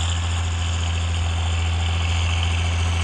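A YTO Agri Master 1204 tractor engine idling, a steady, loud, unbroken diesel drone with a deep low hum and no speech over it.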